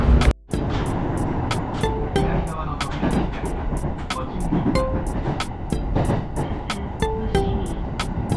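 A train rides on rails near Uji, Kyoto, with a loud, steady rumble and regular clacking beats from the track joints, heard close throughout.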